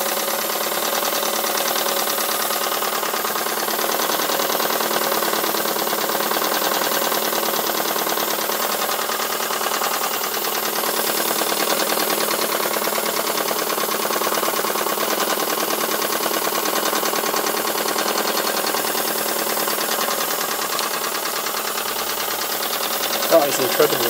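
Small steam or hot-air model engine fitted with a 2-inch burner running slowly at 45 PSI, giving a continuous even chugging tick-over throughout with a steady hiss and people talking over it.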